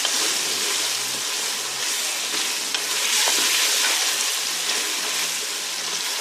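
Green chilies frying in a karahi pan with turmeric, a steady loud hiss and crackle of hot oil, continuous and close with faint stirring clinks, no talk.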